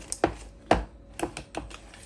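A whisk beats thick pakoda batter in a bowl, giving about half a dozen sharp, close taps and knocks in an irregular rhythm.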